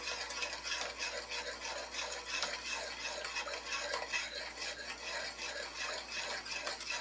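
Garlic and herb sauce stirred in a pan for spaghetti squash, a continuous soft scraping and swishing of a utensil against the pan with a faint sizzle, no talking.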